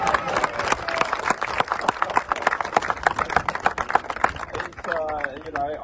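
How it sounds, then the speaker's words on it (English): An audience at a community event applauding, a dense burst of hand claps from a small crowd, steady and close, with a voice speaking over the tail end. "Clap! Everyone clap!"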